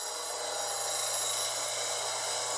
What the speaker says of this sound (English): You can hear the grinder finally kick in.